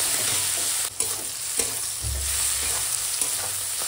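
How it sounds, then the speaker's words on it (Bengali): Onion and chili with tempering spices fry in oil while being stirred, a continuous close sizzle broken by spatula scrapes and taps against the pan, with no voices. "দেখো ফোড়নের সঙ্গে এখন পেঁয়াজ লঙ্কাটা এরকম ভাজা হয়ে গেছে, সোনালি করে একদম দেখো ভাজা হয়ে গেছি।"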